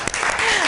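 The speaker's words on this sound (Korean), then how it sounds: "박수" A studio audience claps during a live broadcast, a brief burst of dense applause under a speaking voice.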